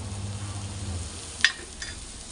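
Sweet potato pieces are stir-fried in a pan for a fasting dish, giving a soft, steady sizzle at low volume. A single sharp utensil clink sounds partway through, with no talk.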